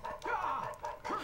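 A cartoonish dog bark from the video game Dog's Life, heard as a few short, tonal barks in quick succession at moderate level, with no talk.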